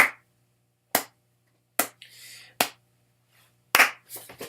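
Single hand claps recorded for a beatbox track, five sharp isolated claps spaced about a second apart in a quiet room, with brief faint rustles between them.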